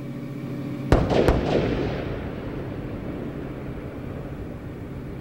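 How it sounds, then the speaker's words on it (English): Twin sonic booms from Space Shuttle Columbia going subsonic on approach to land over the Florida coast: two sharp, loud cracks in quick succession followed by a long rolling rumble that slowly fades, with no voices. "Twin sonic booms as Columbia has gone subsonic."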